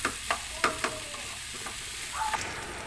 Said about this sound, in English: And then we have to saute these vegetables for around just 3 minutes.